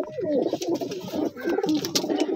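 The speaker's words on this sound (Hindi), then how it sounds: "बड़े अच्छे कबूतर हैं" Several pigeons coo softly and continuously nearby, their low throaty warbles overlapping with a bit of background murmur.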